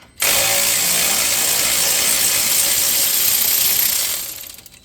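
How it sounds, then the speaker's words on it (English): A ratchet removes an 18 mm brake bolt on a Ford Fusion during a brake pad and rotor job, giving one loud, steady whirring rattle up close for about four seconds before it fades. "then I will use my ratchet here to"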